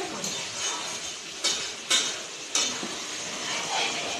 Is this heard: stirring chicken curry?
yes